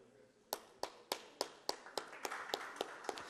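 A dozen or so sharp, quiet hand claps at an evangelical gospel art festival, spaced fairly evenly like a small slow round of applause rather than a full crowd.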